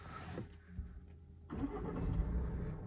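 A Tata Harrier's engine cranks and catches at about 1.5 seconds, then settles into a loud, rumbling idle close by, with no talking over it.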